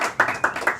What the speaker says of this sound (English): Please give another round of applause as we come back.